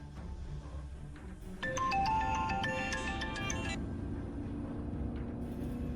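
A phone ringtone sounds as a bright, repeating electronic melody for about two seconds, standing out over low background rumble inside a room during a domestic TV drama scene.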